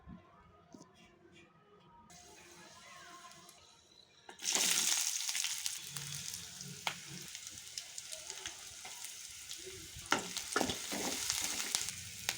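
Tempering of onions, dry red chilies, cumin and garlic dropped into hot oil in a pan, bursting into a loud sizzle midway and crackling steadily after a quieter stretch of kitchen sounds with some talking.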